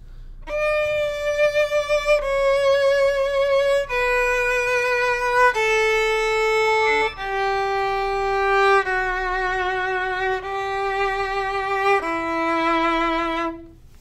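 A solo violin plays a slow, descending melody from Canon in D of sustained bowed notes, clear and close, each note held about a second or two.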